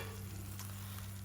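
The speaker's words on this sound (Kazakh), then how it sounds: "мен цептор сковородкасында майсыз, сусыз қуырып пісіріп аламын" Chicken fries dry in a Tsepter pan with no oil or water. It gives a steady, close sizzle and crackle under a constant low hum, with no talking.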